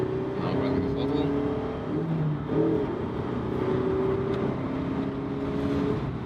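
A 2.0-litre Mazda MX-5 Miata ND roadster accelerating on a motorway, a steady engine drone with rising tonal hum and road noise throughout, while people talk over it.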